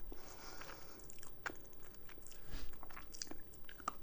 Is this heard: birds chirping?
no